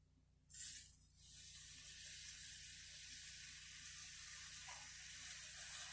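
Bacon strips dropped into a hot pan, a brief loud splash of sizzle followed by a steady, close, bright frying hiss that continues without talk.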